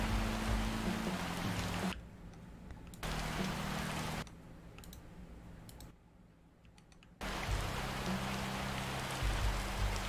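Steady rain in the cozy video game Bear and Breakfast, a dense hiss that runs throughout and drops abruptly in level several times before returning, with faint clicks and no voices.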